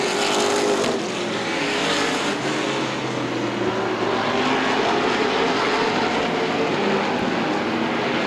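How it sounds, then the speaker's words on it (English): CRA late model sportsman stock cars roar around Anderson Speedway on a restart, a loud, continuous multi-engine drone that swells and shifts pitch as the pack passes, heard without commentary over it. "Hacker and McLaughlin coming to green. Turn number 4 underway."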